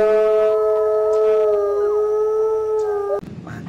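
A toy wolf gives a steady electronic howl with a clear rising and falling pitch, playing loud and close for about three seconds before cutting off abruptly into faint background noise.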